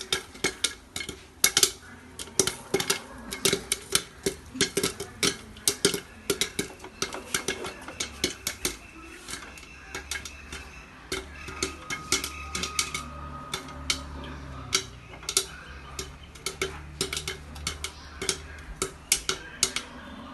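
Popcorn popping inside a pressure cooker, rapid irregular sharp pops and ticks against the metal over twenty seconds, some clustered in bursts, no voices.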